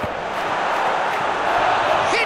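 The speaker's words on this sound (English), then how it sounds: "at least the crowd are appreciative of his efforts" The crowd in eFootball PES 2021 cheers through a Benfica vs Barcelona Champions League match, a dense, steady roar that holds at an even level throughout.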